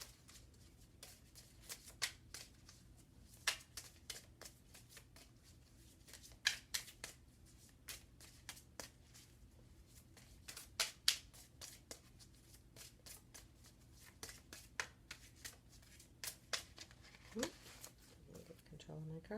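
Large tarot cards are shuffled and handled close up, producing a steady stream of soft riffles and snaps throughout, while a voice talks quietly underneath.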